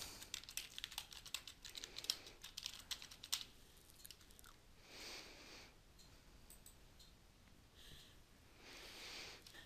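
Quick bursts of clicking keystrokes on a computer keyboard as a search term is typed, close and fairly faint, followed by quieter breathy pauses and rustling.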